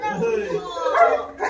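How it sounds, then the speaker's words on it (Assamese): A dog at a family Holi gathering at home barks and yips briefly and close by, mixed in with a person talking. "এই ষ্টিফো ইমান ভুকিছে ৰবা ৰবা ৰবা"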